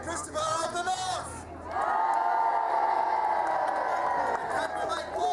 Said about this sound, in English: give a mighty cheer for Sir Christopher of the North